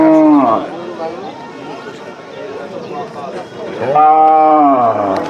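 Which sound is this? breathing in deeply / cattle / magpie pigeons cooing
cattle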